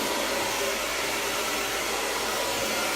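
Hair dryer blowing hair during a blow-out, a loud steady close-up whoosh of airflow and motor hum, unbroken for the whole stretch with no talking.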